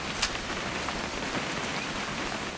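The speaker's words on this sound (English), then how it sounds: "It's gonna rain the whole weekend," Rain falls steadily in the game What Remains of Edith Finch, a soft, even patter of drops on surfaces that holds at a moderate, distant level throughout with no other sounds over it.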